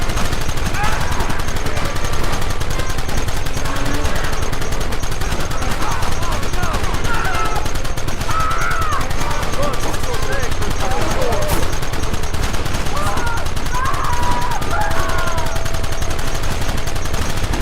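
Rapid gunfire rattles continuously through a shootout in the Western video game Red Dead Redemption, loud and dense, with shouting voices over the shots.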